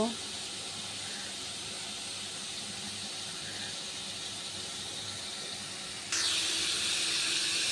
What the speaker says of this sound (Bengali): এই যে ফুলকপি কড়াইতে দিয়ে দিয়েছি ভাজতে,